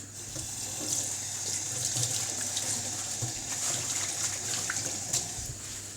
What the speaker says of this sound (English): I'm just going to give my hands a quick rinse